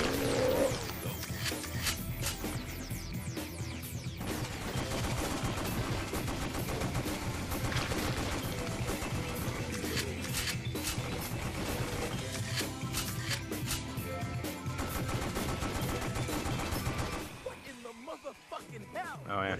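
Gunfire blasts as enemies are shot in the House of the Dead: Overkill Extended Cut video game, a dense barrage of loud rapid shots over game music and effects, with players talking over it.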